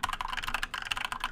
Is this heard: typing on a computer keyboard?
yes